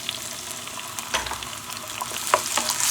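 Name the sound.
diced tomatoes sizzling as they're tossed into a frying pan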